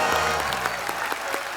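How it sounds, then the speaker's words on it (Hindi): A studio audience on a Hindi comedy talk show bursts into loud, dense applause, a continuous close wash of clapping with no talk over it. "जोरदार तालियां"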